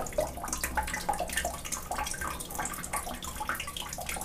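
Water trickles and splashes from an opened Ariston 80-litre combined boiler during descaling, a faint, uneven running and dripping sound with no voices.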